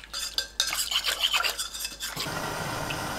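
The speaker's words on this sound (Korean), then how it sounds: "물 300ml, 찹쌀가루 15g 넣고 섞어주세요." Water and glutinous rice flour being stirred together in a bowl, a close, busy scraping and swishing that runs for about two seconds, then drops to a quiet hiss with no voices.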